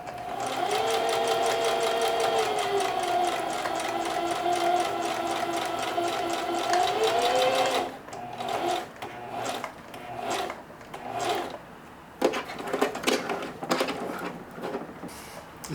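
A sewing machine stitches denim in a fast steady whir for about eight seconds, then stops and starts in short bursts mixed with clicks and handling of the fabric.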